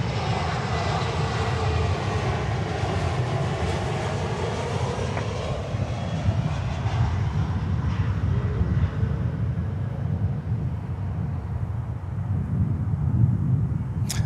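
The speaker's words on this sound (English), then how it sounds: "Avianca 320 Neo" An Avianca Airbus A320neo airliner roars steadily at Miami airport, a loud continuous jet engine rumble with a slowly shifting whine as it passes, with breezy wind noise underneath.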